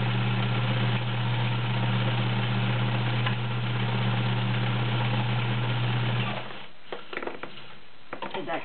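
A vintage Kenmore 1207 sewing machine hums steadily and loudly while stitching decorative patterns with the stitch width changing, then stops and leaves a few soft mechanical clicks and handling sounds.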